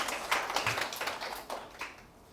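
An audience gives a short round of scattered clapping at the start of a Korean tax-law lecture, soft and somewhat distant, dying away within a couple of seconds.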